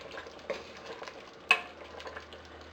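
A spoon stirs beef stew seasoned with salt and pepper in a pot, soft scraping strokes over a faint simmer, with two sharper clinks against the pot.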